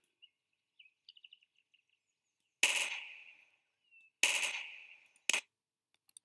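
Gunfire aimed at a large bomb in Garry's Mod: after a few faint clicks, three loud sharp shots with decaying tails ring out about a second apart, with no talk.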